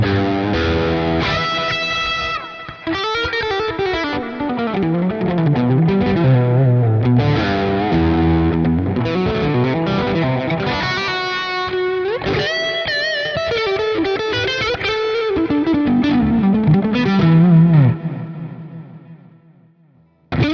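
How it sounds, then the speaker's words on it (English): A music mix run through stock Reaper delay plugins, dense sustained tones with echoing repeats and a distorted, chorused edge, loud throughout for about twenty seconds before swelling and cutting off abruptly. "you have a very nice delay sound just with stock delay plugins from Reaper"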